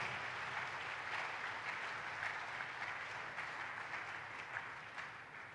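A church congregation claps in sustained, even applause, a soft wash of many hands heard from some distance with no voices clearly standing out.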